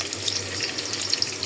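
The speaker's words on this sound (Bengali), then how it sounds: "এই সবজিটা বসানোর জন্য আমি কড়াইতে দিয়ে দিলাম পেঁয়াজ" Onion frying in a wok for a prawn curry, a close, continuous crackling sizzle with fine spattering pops and no voices.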